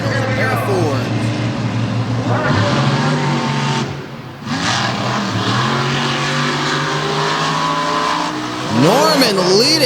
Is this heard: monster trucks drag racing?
yes